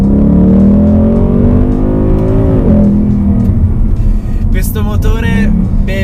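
A 2019 Ford Mustang with a 5.0 V8 accelerating under full throttle: a loud, deep engine roar climbing in pitch, with someone talking over it throughout.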